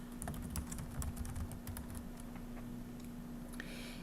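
Steady computer-keyboard typing while entering data into an Excel spreadsheet, a continuous run of close, quick key clicks over a constant low hum, with no speech.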